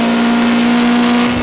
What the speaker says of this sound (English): Now it's flat out, foot pedal to the metal down the straight